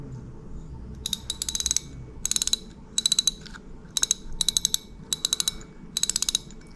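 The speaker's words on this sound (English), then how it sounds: "Drag clicker." Drag clicker of a Daiwa 22 Exist LT 5000-CXH spinning reel giving repeated bursts of sharp, rapid ratcheting clicks, close and loud, in about eight short spurts with brief pauses between them.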